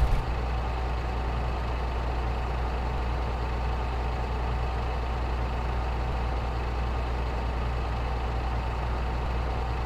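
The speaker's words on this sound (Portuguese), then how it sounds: "só que esse caminhão aqui ele faz a curva" Truck engine in the Truck Simulator Ultimate video game drones steadily and loudly, a continuous low rumble that holds evenly throughout with no talk.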